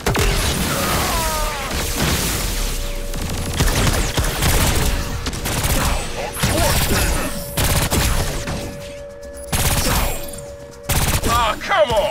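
Rifle fire from the video game Agents of Mayhem, dense bursts of shots with booms and crashes layered over continuous game noise and music, loud and close throughout.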